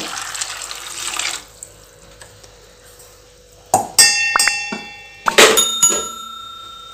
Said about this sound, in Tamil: இப்போ இதை வேக வைக்கிறதுக்காக கொஞ்சமா தண்ணி சேர்த்துக்கலாங்க